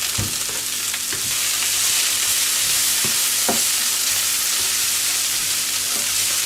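Cabbage frying in butter in a pan, a steady broad sizzle with a few soft stirring knocks and scrapes, close and continuous without speech.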